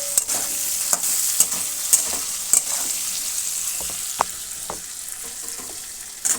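Potatoes stir-fried in a pan with cumin powder and tomato after a tempering of five-spice and dried red chilli: a steady close sizzle of frying with repeated scraping stirs of a spatula, no talking.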